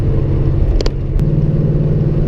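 Loud, close engine rumble and body vibration inside a moving car, a continuous low drone with a couple of brief rattles.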